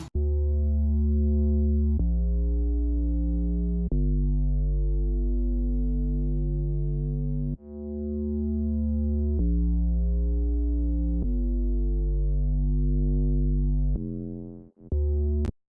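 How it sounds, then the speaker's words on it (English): A deep, buzzy distorted 808-style synth bass plays long sustained notes in a repeating pattern, loud and thick with harmonic grit, ending in a few quick stabs. "it's more of like a distorted, almost 808 type sound, but it's not quite an 808"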